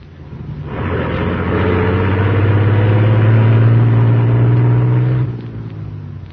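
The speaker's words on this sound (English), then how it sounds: "As the huge truck rumbled out from the alley" Huge truck rumbling out of an alley as a radio drama effect, a loud low engine roar that swells in, holds steady for several seconds, then cuts off.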